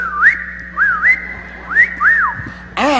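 A person whistles an imitation of a car's lock signal, a series of short rising-and-falling chirps in pairs, clear and close, followed by a burst of noise at the end.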